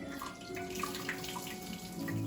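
Heavy pot of pasta cooking water poured out to strain in a home kitchen in Italy, a steady rushing splash running throughout at moderate level with no talk.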